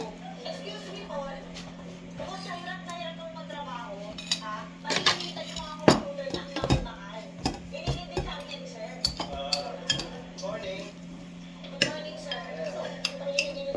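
A young child scoops with a ladle at a meal of rice and viand, utensils clinking and tapping irregularly against dishes while adults talk and murmur nearby.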